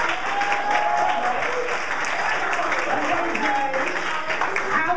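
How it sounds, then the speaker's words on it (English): A crowd applauds at a live escape-artist show, steady dense clapping for several seconds with faint voices and cheers mixed in. "Give both a big round of applause."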